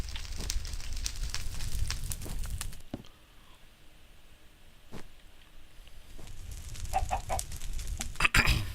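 Chickens in the Minecraft video game cluck in short, repeated bursts over a background of game noise, with a quieter gap in the middle before the clucking picks up again.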